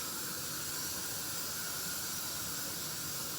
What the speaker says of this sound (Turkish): Şimdi şöyle yavaş yavaş şerbetini ilave ediyorum.